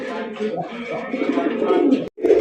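Bombay pigeons, including a bright red pair, coo in low, soft, rolling calls at close range, with a faint background murmur.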